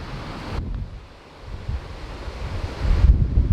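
Strong wind sweeps across an uphill par-4 hole at Wortley Golf Club, buffeting the microphone in loud, roaring gusts that dip briefly and then build again, with no voices.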